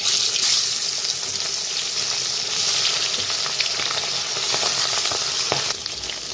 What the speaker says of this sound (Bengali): তো তেলটা গরম হয়ে গেছে। তো মাছগুলো এক এক করে ছেড়ে দিই।